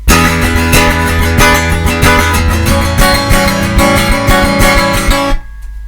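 A loud, strummed acoustic guitar riff chugs along in a bouncy shuffle rhythm, repeating several times before cutting off abruptly near the end.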